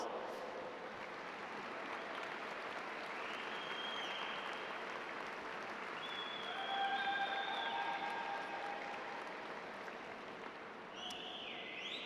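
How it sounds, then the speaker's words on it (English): Sustained applause fills a graduation convocation hall, a broad even wash of many hands clapping with a few faint whoops and cheers rising over it. "Give them a round of applause."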